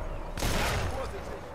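A sudden loud burst of gunfire in the video game Sniper Elite, a single heavy blast that decays over about a second against a low background rumble.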